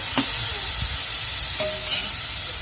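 Onions, tomatoes, garlic and ginger sautéing in oil over low-to-medium heat, a constant close sizzle with a few clinks and scrapes of a spoon against the pan, no voices.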